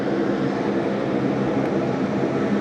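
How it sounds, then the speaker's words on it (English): Boeing 737 departing runway 34 left at Sydney Airport, a steady loud jet engine roar with broad rushing noise and no clear rise or fade. ".737 Maxibon just departing runway 34 left."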